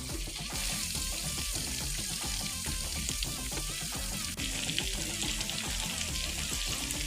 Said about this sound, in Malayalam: ഇപ്പൊ ചിക്കൻ ഒരു സൈഡ് വെന്തുണ്ട്. നമുക്കത് മറച്ചിടാം.